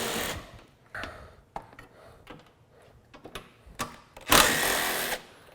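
Bottom bolts come out of a car headlight, with a series of short close clicks and ratcheting taps from a tool, ending in a louder whirring burst of a power driver.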